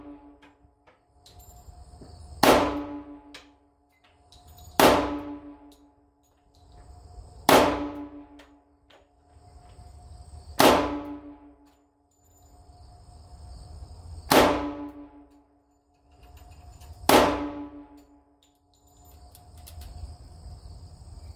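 A Smith & Wesson 1006 10mm pistol fires six sharp, evenly spaced shots, each cracking out and ringing briefly before fading, with no talking between them.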